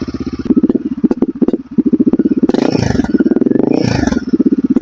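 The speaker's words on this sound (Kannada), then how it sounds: "ಇಲ್ಲಿ ರಿಪ್ಲೇಸ್ ಆಗಿರೋ ಎಕ್ಸಾಸ್ಟ್ ಸೌಂಡ್ ನ ನೀವೆಲ್ಲ ಕೇಳಲೇಬೇಕು" A Royal Enfield Himalayan 452 adventure motorcycle fitted with a replaced aftermarket exhaust cranks and fires up close by, settling into a loud, steady thumping idle broken by a couple of sharp blips of revving.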